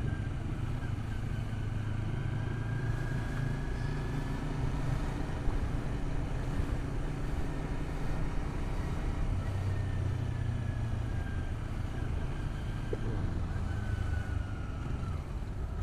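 A Modenas Kawasaki Z250 motorcycle riding along a village road, its engine droning steadily throughout with wind rush, continuous and fairly loud with no talk.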